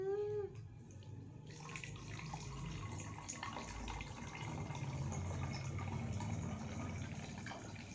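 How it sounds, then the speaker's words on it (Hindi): Colored water pouring into a bottle, a steady close trickle and gurgle of liquid running for several seconds, quiet and without talk. "तो ये मैंने कलर वाटर डाल दिया।"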